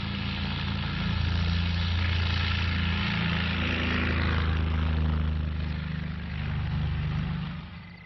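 A small propeller plane taking off at night on an unlogged delivery flight drones steadily with a low, rumbling engine hum that swells slightly, holds, then fades toward the end.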